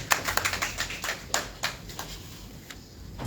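A short burst of scattered clapping rises from an audience at a press conference, loudest at the start and thinning to a few isolated claps before fading.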